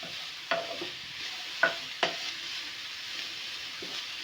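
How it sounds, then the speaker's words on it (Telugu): Grated carrots fry in a pan for carrot halwa, giving a steady soft sizzle broken by a few sharp spoon scrapes and clinks against the pan at close range, with no talking. "ఇప్పుడు మంచిగా ఫ్రై చేసుకుందాము"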